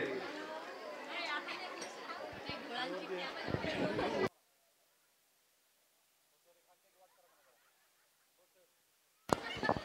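A crowd chattering at an outdoor kirtan gathering, a dense wash of many voices that cuts out abruptly into near silence before the chatter briefly returns.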